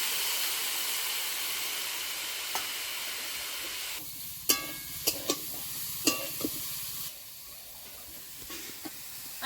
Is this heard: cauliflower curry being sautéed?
yes